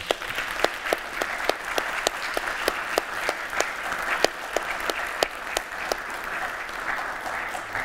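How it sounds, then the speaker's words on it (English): An audience at a gala concert claps in sustained applause, with a few close, distinct hand claps punching sharply through a softer, even bed of clapping. "please give her a round of applause"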